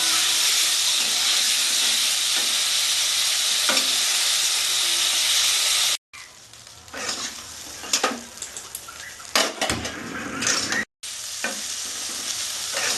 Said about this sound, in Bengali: মাছটা আমার ভাজা ভাজা হয়ে গেছে